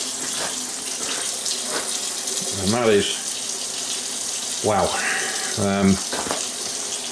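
Tap water runs steadily into a sink, rinsing a large trimmed specimen, a continuous close splashing wash with a person speaking briefly over it.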